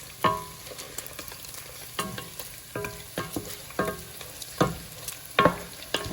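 Meat frying in hot grease in a pan, crisping up for a potato soup: a steady crackling sizzle broken by repeated scraping stirs about once a second, close and fairly loud, with no talking.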